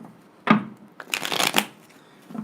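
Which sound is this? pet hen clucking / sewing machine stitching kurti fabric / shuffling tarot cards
shuffling tarot cards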